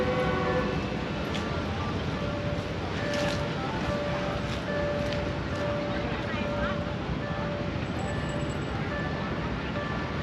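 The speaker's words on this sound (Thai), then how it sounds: "เดี๋ยวสิพาพี่น้องไปเบิ่งรถไฟเนาะรถไฟกำลังมา" A train arrives at Nong Khai railway station in Thailand with a loud, steady rolling rumble and a long sustained horn tone. People talk close by as it comes in.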